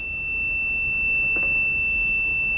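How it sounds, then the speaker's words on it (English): A gas alarm buzzer in a smart kitchen setup sounds a steady, piercing electronic tone throughout, with a brief click partway through. "when the buzzer gets switched on, right, the alarm light also getting switched on"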